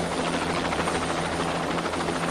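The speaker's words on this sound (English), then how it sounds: "This private Jet Ranger helicopter, piloted by a Vietnam veteran, ferries the ample frame of Lord Hesketh from the battlefields of Grand Prix racing." A private Bell Jet Ranger helicopter flies overhead with a continuous, loud, dense rotor and turbine roar that stays steady throughout, with no voices.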